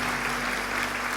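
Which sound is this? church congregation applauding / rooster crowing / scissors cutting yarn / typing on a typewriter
church congregation applauding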